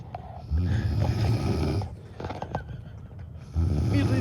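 A woman snores in a recording, with two loud rasping inhalations separated by a quieter breath, close and dominant with no talking over it.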